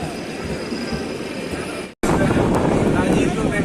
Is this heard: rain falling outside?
no